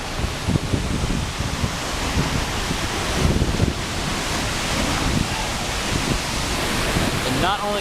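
Gullfoss waterfall in Iceland, fed by glacier meltwater, roars as a dense, constant wash of falling water heard close up, loud and unbroken throughout, with gusts of wind mixed in.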